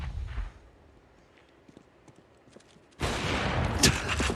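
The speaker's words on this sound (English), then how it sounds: "Ooh, exchange of shots here." A short burst of gunfire from the Counter-Strike game breaks out loudly after near silence, a dense clatter of shots lasting about a second and a half, with a faint soft patch near the start.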